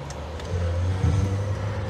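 Citroen C6 with a 2.7 twin-turbo diesel pulling away from a standstill, a low droning engine note building steadily inside the car, with no one speaking.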